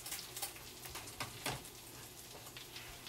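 Crispy oysters fry in a pan, a faint, steady sizzle with scattered soft crackles and pops close by and no voices.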